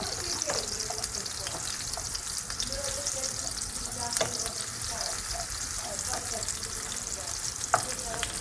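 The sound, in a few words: onions frying in olive oil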